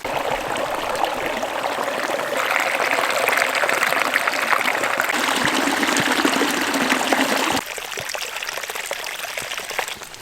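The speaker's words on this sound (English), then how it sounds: "the road accumulates the water, so it creates these little streams" Rainwater pours and gushes in small streams running down an eroded road in Portugal, a steady broad rushing wash that stays loud and continuous, then drops somewhat softer near the end, with no voices.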